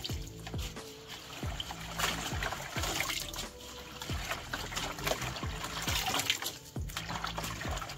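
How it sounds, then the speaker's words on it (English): Kale leaves swished around in a bucket of wash water, with close, repeated sloshing and trickling splashes in an uneven rhythm. "So I just swish it around each one, move it to the other side."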